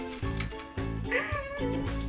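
A cat meows repeatedly, several drawn-out, fairly loud calls close by, one after another with no speech.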